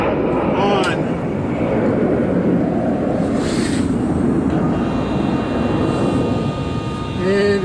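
An aircraft engine fires up for its first start with throttle full forward, a loud sustained roar that holds steady throughout at close range.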